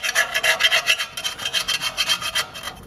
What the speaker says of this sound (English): And this super scraper is awesome.